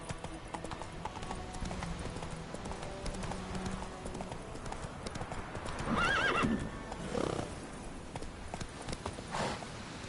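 A horse's hooves clip-clop steadily at a gallop in The Witcher video game, with a brief neigh partway through and soft ambient background under it.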